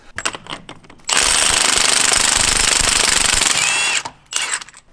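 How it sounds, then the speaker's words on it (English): An impact wrench with a 1 1/4 inch socket hammers off the output shaft flange nut on a Jeep JL transfer case, a loud, steady rattling burst of about three seconds with shorter bursts before and after. "using a 1 1/4 inch socket, we're going to go ahead and remove the nut securing the output shaft flange to the transfer case"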